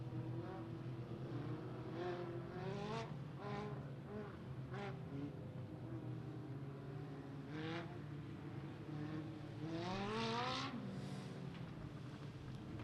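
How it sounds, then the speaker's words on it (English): Race cars roll out at Beckley Motor Speedway during a local-class hot lap qualifying session, engines droning steadily at a distance with several rising revs and passes, under no talk. "Roll out our final 5 cars rolling out here in this hot lap qualifying session"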